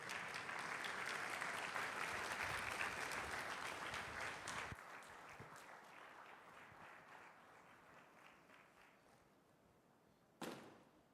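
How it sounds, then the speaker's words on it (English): Applause from an audience as a speaker is welcomed onto a stage at a wealth-building event, loud and dense at first, then thinning out and fading, with a single sharp thump near the end. "Oh, I like the clap."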